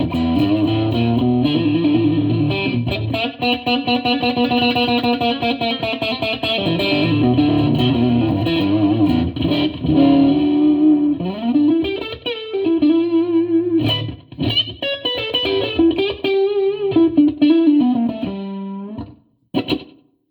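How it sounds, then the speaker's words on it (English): An electric guitar plays through a Fender Mustang LT50 50-watt 1x12 amp on its Chicago Blues preset, slightly overdriven with a slapback delay, a continuous bluesy riff of chords and single notes, close and loud, stopping abruptly at the end. "Like a slap back type of a reverb effect there, or delay rather."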